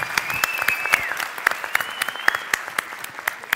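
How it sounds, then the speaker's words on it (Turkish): An audience at an entrepreneurship meetup claps together for a birthday, a steady burst of dense applause from many hands in a room, with no talking over it. "hep beraber bir doğum günü alkışı yapalım mı şöyle"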